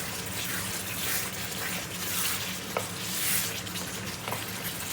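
Onions and chicken frying hard in a pot over full heat for biryani, a dense continuous sizzle and crackle close up, with occasional stirring clinks and no one talking.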